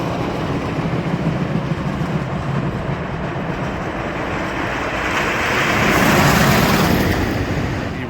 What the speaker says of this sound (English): This is the third time I've seen a train go by. They're just empty trains.